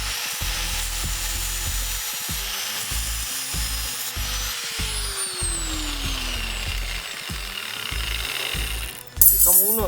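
A power tool, likely an angle grinder, cuts bent steel rebar for stirrups, columns and tie beams: a steady high whine runs throughout and slowly drops in pitch, with a burst of harsh grinding near the end and talk underneath.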